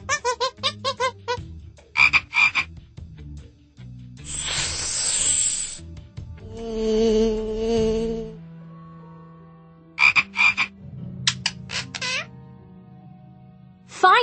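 Frog croaks from the PAW Patrol game Tracker's Jungle Rescue come in rhythmic bursts, alternating with a hissing spray and a parrot call, all clean and electronic-sounding.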